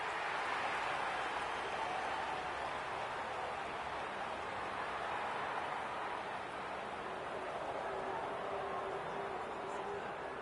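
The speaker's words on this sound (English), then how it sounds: "The crowd noise tells you all you need to know." Stadium crowd at an AFL football match, Adelaide versus Carlton, a steady broad roar of many voices filling the whole stretch with no breaks, with a commentator talking over it.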